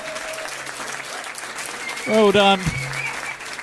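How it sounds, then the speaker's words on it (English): Applause from a pub trivia quiz crowd at The Granta, a steady patter of clapping beneath a brief spoken remark and a louder vocal burst near the middle. "Give them a round of applause for trying"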